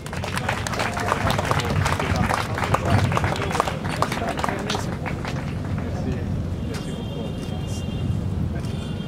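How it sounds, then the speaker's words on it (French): Audience at a Belgian military commemoration honouring Congolese Second World War soldiers claps in a loud, dense burst that fades after a few seconds into a quieter room, with a voice speaking over the start of the clapping. "Applaudissons, s'il vous plaît."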